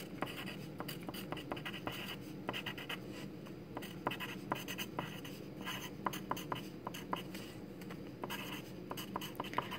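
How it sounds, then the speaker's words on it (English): Hand-writing of chemical equations, likely pen on paper, as equations are balanced: a steady, faint run of scratchy pen strokes with small taps, close and continuous, with no talk over it. "Let me write this down a little clearer"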